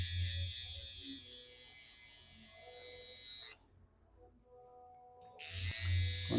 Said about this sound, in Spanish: Traten en ese punto, cuando pasen la trimmer, de no recargar mucho su mano